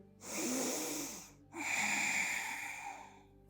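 Two long, deep breaths during a yoga flow, close and quiet: a steady airy inhale, a brief pause, then a second sustained breath with no talking.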